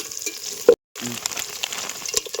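Onions, green chilies and biryani spices stirred in an oiled pan outdoors, a close, loud sizzle with scraping stirs, briefly cut off to silence before the frying hiss resumes.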